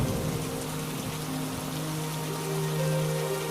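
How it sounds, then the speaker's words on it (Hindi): Heavy rain pours steadily, a dense, even hiss of drops on surfaces, loud and constant. A faint sustained musical drone sits beneath it, and no one speaks. "तभी अचानक फिर से भयंकर बारिश शुरू हो जाती है"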